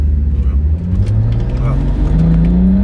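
A BMW 535d E60 diesel engine revs hard as the rear wheels slip, its pitch climbing steadily under a loud, close drone while a person speaks briefly over it.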